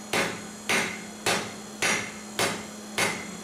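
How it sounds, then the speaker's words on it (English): A blacksmith hammers hot metal on an anvil while forging a toasting fork, six evenly spaced ringing blows about every half second, close and clear. "pushing the metal to that side of the anvil so you can get your hammer into it easily"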